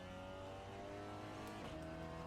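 An Audi S3 drives in the Assetto Corsa racing game, its engine holding a faint, steady droning note that dips briefly as if shifting gear partway through.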